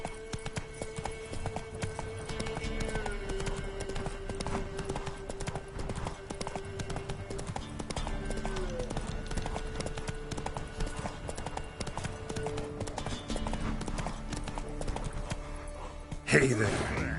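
The horse Roach gallops through The Witcher 3 video game, with steady, rhythmic hoofbeats continuing for over fifteen seconds beneath game music, a brief louder burst near the end.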